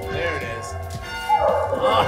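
Dogs bark and yip near a ringing bell at a castle-like attraction with a drawbridge, the barks sharp and close over a steady tonal bell hum while people talk nearby.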